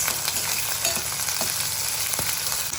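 Mustard seeds, green peas and onions frying in hot oil for upma, a close, continuous crackling sizzle with soft stirring clicks and light pops scattered throughout.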